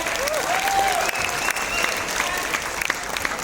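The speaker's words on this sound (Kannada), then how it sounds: "ಬರ್ಲಿ ಒಂದು ಜೋರಾದ ಚಪ್ಪಾಳೆ ಇವರಿಗೆ" Audience applause for a director and alumnus at a college stage event at DSCE, a dense steady clapping crowd throughout with a voice briefly heard over it.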